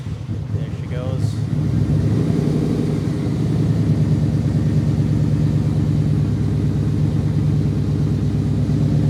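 A Yamaha Royal Star 1300 V4 motorcycle with a fuel-dumping problem idles after starting, its low rumbling engine note steady and close for the whole stretch, a brief scrape near the start and a voice talking over it.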